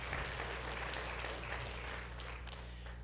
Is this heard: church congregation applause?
yes